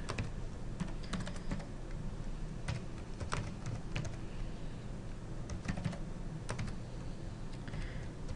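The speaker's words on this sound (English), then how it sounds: "I'm going to go ahead and just type in a sample reference" Fingers tap out a sample APA reference on a computer keyboard, a quick, irregular patter of light key clicks with occasional sharper strokes, fairly quiet and close, with no talking.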